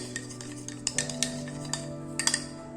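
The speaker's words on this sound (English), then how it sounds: "So I give it a stir now." A spoon scrapes and clinks against a pot while mango and milk pudding mixture is stirred, light irregular taps over a steady low hum, close and moderately quiet, without talking.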